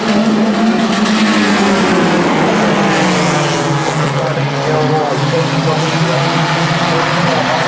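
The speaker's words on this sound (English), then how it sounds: "Earl Sprint making his move in the other 3 car" Sprint cars race at Midvale Speedway, loud engines roaring and droning steadily as the pack circles the track, with a commentator talking over the continuous din.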